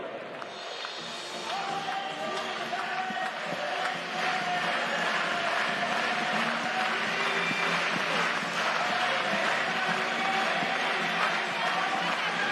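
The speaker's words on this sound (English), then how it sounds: "let's clap those hands sharp" A big stadium crowd at a baseball exhibition game at Yankee Stadium claps along, a broad wash of hands and cheering voices that swells after a few seconds and stays full and continuous.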